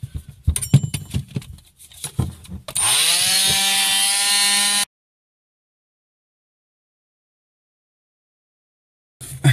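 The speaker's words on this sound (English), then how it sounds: "I'm just using a oscillating multi-tool cutter." An oscillating multi-tool cuts through the plastic of an RV black or grey water holding tank, a loud, steady buzzing whine lasting about two seconds after some lighter handling clatter, then silence.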